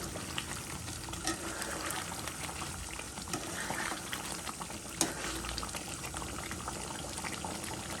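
Chilli chicken seasoned with coriander powder fries in a pan while being stirred. The sizzle is busy and constant, and scraping and stirring sounds rise and fall over it.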